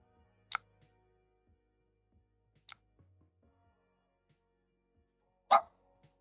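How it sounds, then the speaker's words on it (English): A dog barks in a hallway, three separate sharp barks spaced a few seconds apart with near silence between, the last one loudest, heard from a short distance indoors. "Sorry, I'm just letting the barking run its course."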